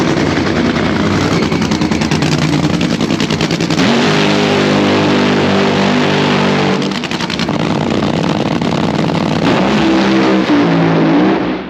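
A nitro funny car drag racing engine roars at close range, loud and sustained with throttle blips and revving shifts, dense harsh exhaust filling the whole span.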